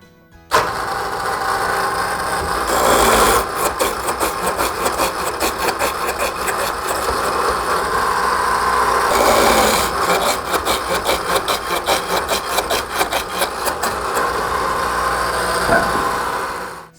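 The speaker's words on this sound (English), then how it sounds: "The next thing we need to do here is tenonize these spindles." A log-home railing machine cuts tenons onto the ends of log spindles, a loud, continuous motor roar with rapid rhythmic cutting chatter that surges twice as the wood is shaped, close by and without speech.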